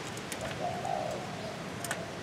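A spotted dove used as a bird-trapping lure gives a soft, low coo, faint over a steady outdoor hiss with a few brief chirps from other birds.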